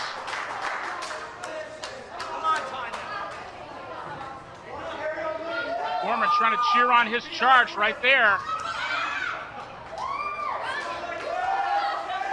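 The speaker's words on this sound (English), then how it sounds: "You hear the fans." Wrestling fans in an arena at an NECW TV show cheer and shout, a dense crowd roar with whoops and whistles swelling toward the middle, under a commentator talking.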